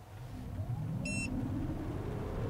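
A Mazda 6e electric car with 258 hp accelerates at full throttle in sport mode, heard from inside as a quiet, steady low road-and-motor rumble, with one short electronic beep partway through.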